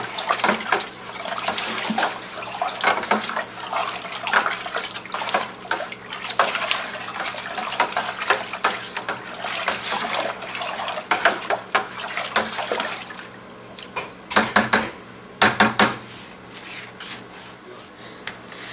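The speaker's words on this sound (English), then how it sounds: "I'm just going to give it all a good stir." Peach wine must being stirred in a brewing vessel after a dry white wine yeast is pitched, giving a steady close sloshing and swirling of liquid with scraping knocks from the spoon and a few sharper clacks near the end.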